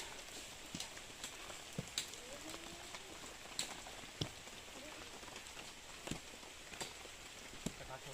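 Steady rain patters over a mountain trail at Khao Luang in Sukhothai, with scattered sharper drips and knocks standing out against the continuous hiss, moderately faint and close around the listener.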